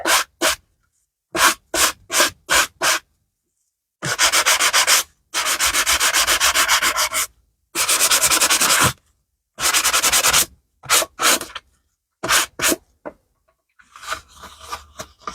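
An embossed sunflower card top being sanded by hand, loud close bursts of dry rubbing: quick short strokes, then longer sustained passes separated by pauses.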